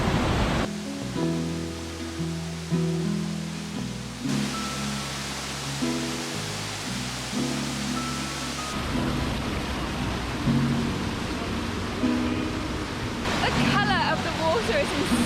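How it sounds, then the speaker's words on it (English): A waterfall in Snowdonia National Park: a constant, full roar of rushing water close by, with faint voices murmuring under it. "This is like my favourite thing, like just existing right next to a waterfall."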